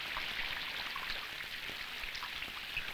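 Rain falls steadily outside a house with a leaking roof, a soft constant patter with scattered nearby drips plopping through, quiet and without voices.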